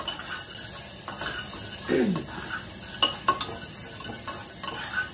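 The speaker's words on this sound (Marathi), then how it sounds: "स्लो फ्लेम वर ठेवून असं एक 10-15 मिनिटं असं त्याला स्टीअर करत राहावं लागतं" Masala being stirred in a pan over a slow flame, a soft steady sizzle under scraping spoon strokes, with a few sharper clinks and scrapes against the pan partway through.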